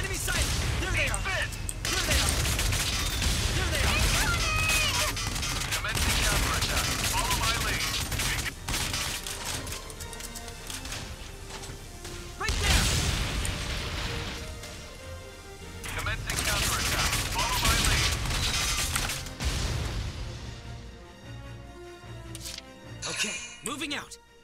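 Bursts of gunfire in the video game Valkyria Chronicles 4 crackle through a long battle scene, mixed with in-game voices shouting orders and game music.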